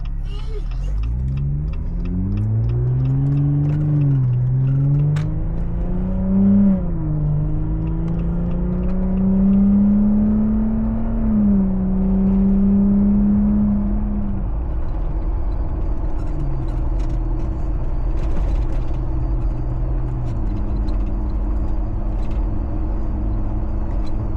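A car with a 3.6L Pentistar engine pulls out of an intersection onto a highway under moderate throttle, its engine drone climbing in pitch through the gears before easing into a steady cruising hum, loud and close throughout.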